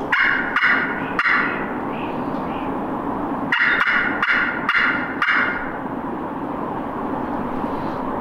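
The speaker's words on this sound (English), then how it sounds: "Was that a gobble?" Two rattling bursts of gobbling from a roosted wild turkey gobbler on public land, fairly faint and distant, heard over a constant loud roar of wind or far-off engine noise.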